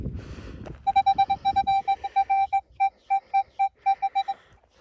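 A metal detector gives a rapid series of short, loud, evenly pitched beeps, repeating in an irregular rhythm over a faint background while searching in Chernihiv and Kyiv regions.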